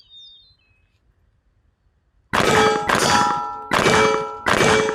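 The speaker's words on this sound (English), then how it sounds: "First shot." Shots from an FN15 Guardian AR-15 rifle, four loud metallic cracks with ringing tails, spaced under a second apart after a quiet outdoor pause with brief bird chirps.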